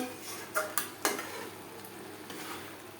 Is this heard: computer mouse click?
no